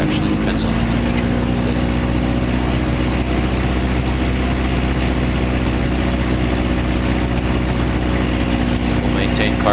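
Light aircraft engine at full carb heat during a run-up: a loud, steady, close propeller drone with a constant buzzing tone that holds throughout, with no change in rhythm.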